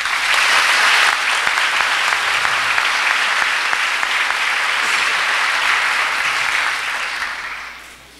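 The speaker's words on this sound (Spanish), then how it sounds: "si le damos un fuerte aplauso a todo el equipo del SENA" Sustained, loud applause from a graduation ceremony audience honoring the SENA team, a dense wash of many hands clapping for about seven seconds before tapering off at the end.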